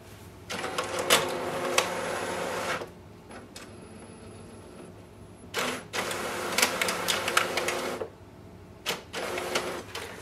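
An Epson WF-4830 printer scans a page, its mechanism running in several bursts of whirring, clicking motor noise separated by short quieter gaps.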